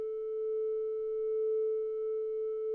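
A synthesizer holding a single steady triangle wave tone, smooth and unwavering at one pitch for the whole stretch, heard alone with no voices.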